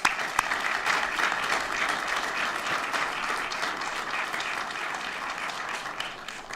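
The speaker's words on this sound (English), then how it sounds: "if we can give him a round of applause" A round of applause at a school board meeting fills the room, steady and moderately distant, holding evenly for several seconds with no talking over it.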